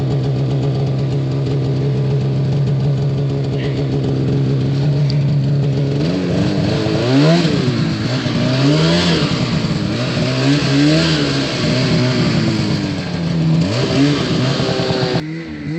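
Two snowmobiles packing down a trail, engines rumbling at a steady idle and then revving and surging in repeated loud swells, close by, with no talking.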